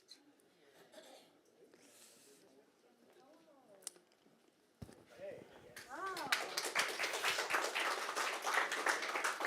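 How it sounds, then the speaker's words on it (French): Applause from a church audience swells up after a quieter stretch with scattered voices and sounds, building into sustained, fairly loud clapping from many people that continues to the end. "C'est les applaudissements."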